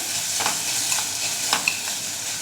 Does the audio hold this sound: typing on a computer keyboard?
no